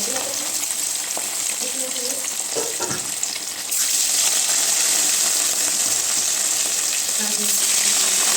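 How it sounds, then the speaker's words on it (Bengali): Fish fries in hot oil with a loud, steady sizzle close by, a few clinks and taps early on, then the hiss grows fuller and brighter as it continues. "এই সাইডে আর কি মাছ ছেড়ে দেবো মাছ ভাজবো"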